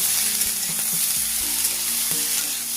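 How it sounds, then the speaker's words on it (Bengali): Tomato and peas frying with vegetables in a pan, an even close sizzle with a few sharp scrapes from stirring, heard without any voices. "এই টমেটো খুব ভালো করে সবজির সাথে ভেজে নিচ্ছি"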